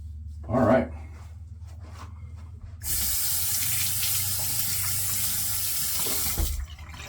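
Water gushes steadily from a tap for a rinse, a loud close hiss that starts abruptly after a few quiet seconds with a brief bump of handling noise, then cuts off near the end.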